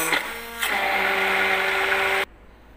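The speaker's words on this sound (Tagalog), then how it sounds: "Hintayin nyo lang natin siyang i-blend" A blender whirs at high speed blending ube halaya mixture, rising in pitch after a short start, then cuts off abruptly near the end.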